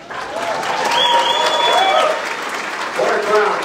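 A crowd at a town hall speech in Winnipeg applauds loudly and steadily, with cheers and shouts rising through the clapping.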